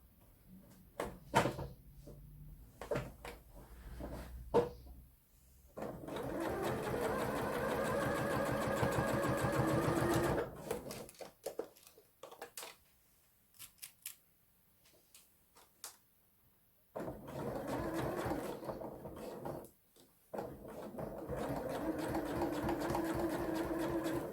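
A sewing machine stitches Hong Kong binding along a fabric edge in two long, steady runs of rapid needle whirring, separated by quiet pauses with small handling clicks.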